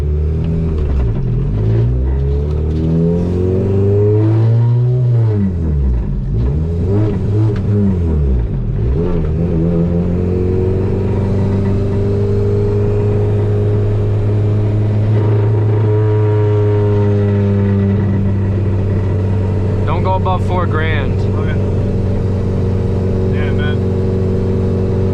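Ford EF hatch engine revving while driving, rising and falling in pitch through repeated revs, loud and close, with some talk over it.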